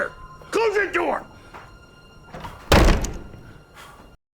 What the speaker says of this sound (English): Close that door!